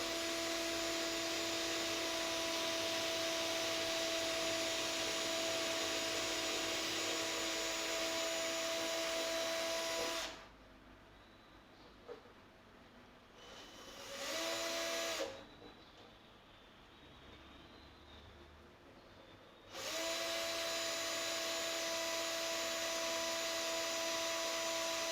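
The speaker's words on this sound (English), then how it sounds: "Bit blunt this drill bit, but it should be okay." A power drill fitted with a blunt bit, working on a cookie-tin ukulele build: a loud steady whine that runs for about ten seconds, stops, gives a brief burst, then starts again near the end.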